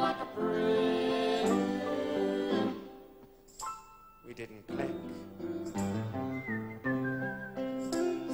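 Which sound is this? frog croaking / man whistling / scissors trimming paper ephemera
man whistling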